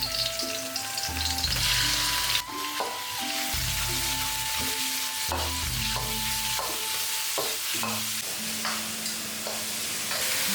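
Minced pork hits hot oil in a wok with scallion, ginger and garlic, giving a loud, steady sizzle throughout, punctuated by clanking spatula stirs and scrapes against the metal.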